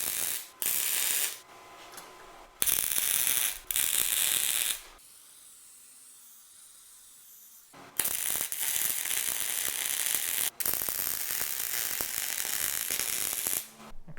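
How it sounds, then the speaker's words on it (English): Steel nuts being welded onto a small steel plate with its mill scale ground off, part of a homemade vise build: loud crackling, sizzling bursts that start and stop, with a quieter pause in the middle. "I'm ready to weld my nuts onto this"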